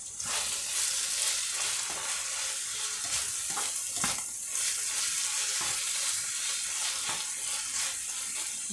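Cabbage frying in a pan for a traditional Finnish cabbage soup, a loud, dense sizzle with occasional stirring scrapes and clatters, steady throughout and close by.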